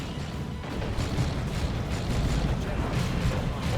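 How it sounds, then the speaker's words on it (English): Heavy D-cannon artillery impacts boom repeatedly in a Dawn of War 2 multiplayer battle, layered over a constant rumble of combat, with a voice talking throughout. "I want to see those big D-cannon hits."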